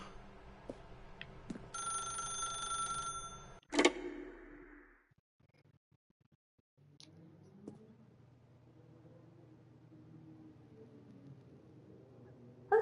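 A telephone rings in The Stanley Parable video game, its bright repeating electronic trill sounding for a couple of seconds and ending with a sharp click, followed by a quiet room hum.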